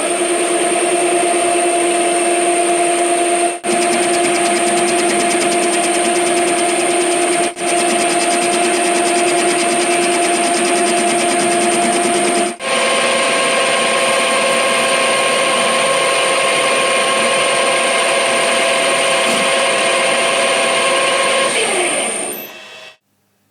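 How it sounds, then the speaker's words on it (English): Metal lathe facing a machined dial for a small engine, a loud continuous whirring hum with steady tonal lines and brief dips, running alone before spinning down at the end. "then we will put this dial in a lathe as accurately as I can, as straight as I can. And then I will face it."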